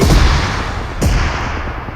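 Gunfire in the mobile battle game PUBG Mobile: two loud, close blasts about a second apart, each followed by a long rumbling decay, with no talking.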